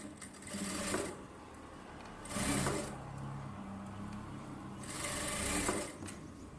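Sewing machine stitching a blouse with rough tacking stitches, running in three bursts of rapid whirring separated by short pauses, close and steady, no voices.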